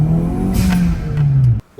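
A turbocharged Toyota Celica GT-Four engine revs loudly close by, its tone holding and then rising before cutting off abruptly near the end.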